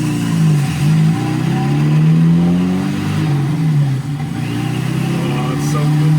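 An Opel with a freshly refreshed CIH engine pulls along on a test drive, its mid-pitched engine hum rising and falling with the revs, loud and close from inside the car, with a voice speaking over it.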